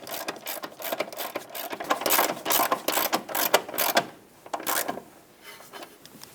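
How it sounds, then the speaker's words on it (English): A ratchet with a 17 mm socket tightens the control arm mounting nut on a 2008-2012 Honda Accord, giving quick bursts of close mechanical clicking that come in uneven spurts before slowing near the end. "Use that 17 millimeter socket to tighten this back up."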